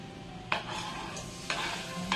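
Garlic, ginger and onion sauté in a hot pan, a faint steady sizzle broken by three sharp spatula scrapes spaced roughly a second apart.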